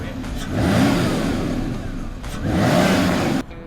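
An Aston Martin Vanquish S on the move revs hard twice, each long, loud surge of engine roar rising and holding before the throttle cuts off abruptly near the end.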